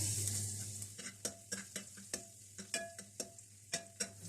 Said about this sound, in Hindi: अदरक हल्का सा फ्राई हो चुका है, अब इसमें लहसुन भी डाल देंगे।